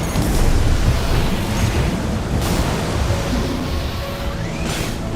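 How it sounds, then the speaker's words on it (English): Missile explosions in the mech combat game Armored Core 6, a loud, continuous rumbling roar of blasts with whooshing bursts layered over the top. "I'm just dodging these missiles"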